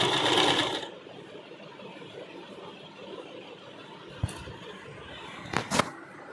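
A sewing machine stitches a puff sleeve onto lace, with a loud close burst of rapid stitching at the start, then quieter handling with a few brief clicks and taps.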